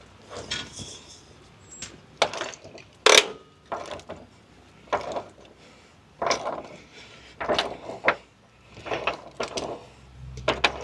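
A ratcheting wrench works on bolts on a Jeep Gladiator during a rock slider step install, producing short bursts of clicking and metallic clatter separated by brief pauses, close up and fairly crisp.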